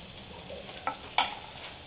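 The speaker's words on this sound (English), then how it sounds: "Maybe you can fry it for like 20 seconds, 25 seconds, because while the entire thing is cooking, the onions will also get cooked" Onions sizzle and fry in a pan for vegetable biryani, a soft hiss broken by two quick stirring scrapes, close and alone without talk.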